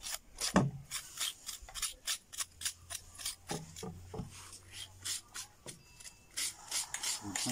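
Coconut being grated by hand on a hard scraper, a steady rhythm of close raspy scrapes repeating about twice a second, with a few knocks mixed in.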